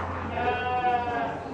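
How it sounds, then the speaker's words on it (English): Baby goats at a county fair bleat among other farm animals, a steady wavering cry close by with people talking in the background. "We found the baby goats."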